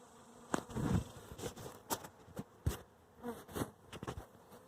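A honeybee swarm buzzes around the hives during a swarm capture, with individual bees droning close past the microphone in repeated passes amid a fainter hum.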